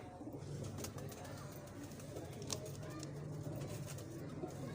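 Pet pigeons of the Taddy and Nayab Patti types coo in soft, low, repeated calls at close range over a steady background hum, with no clear speech.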